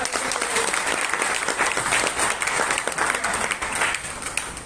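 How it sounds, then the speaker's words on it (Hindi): Loud, dense applause from a seminar audience, sustained and energetic for the whole stretch with individual claps rising and falling in a busy wash. "आप लोगों ने पर जोरदार तालियां।"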